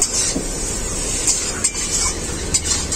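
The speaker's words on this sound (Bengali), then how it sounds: "আলু আর চিংড়ি মাছটাকে একসাথে মশলার সাথে খুব ভালো করে কষিয়ে নেব।" Prawns and new potatoes frying with spices in a pan give a steady, close sizzle, with scraping stirring strokes recurring irregularly over the hiss.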